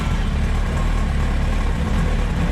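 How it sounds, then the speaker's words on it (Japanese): A car engine idles steadily during a Japanese vehicle inspection, a constant low, even rumble with no voices. "解除してエンジンかけてください。"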